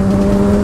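A Yamaha XJ6 motorcycle engine drops a gear and revs hard while overtaking a truck, a loud, steady, close-up engine drone held for the whole short burst.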